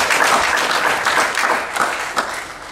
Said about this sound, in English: I think that all deserves a round of applause.